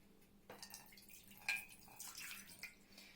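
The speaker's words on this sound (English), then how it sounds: "You can hear me pouring the water." Water is poured at home as part of a guess-the-sound game for kids, a faint, close trickle and splashing with small drips, quiet and without talk.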